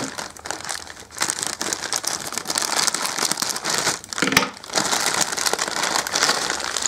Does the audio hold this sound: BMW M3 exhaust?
no